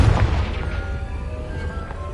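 A Confringo fire spell explodes with a deep, loud boom in the Hogwarts Legacy video game, its rumbling blast fading out over about two seconds, with no talking.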